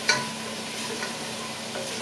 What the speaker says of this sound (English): I have 2 tablespoons of butter in here. I'm gonna put in my onion.